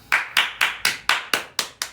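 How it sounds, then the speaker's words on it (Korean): Seven sharp hand claps in a steady, evenly spaced rhythm, close and clear with no talk, given as applause at a Christmas party livestream. "올 한 해 너무 고생 많았다고 박수 쳐드릴게요"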